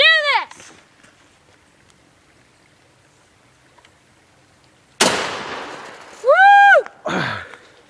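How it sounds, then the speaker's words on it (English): A shotgun fired outdoors toward a red target: one sharp loud blast midway that tails off in a brief echo, with voices before and an excited whoop right after. "I'm gonna shoot a shotgun"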